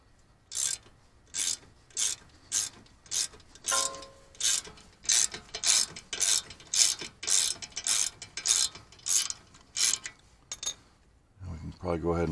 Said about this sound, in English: 13mm ratchet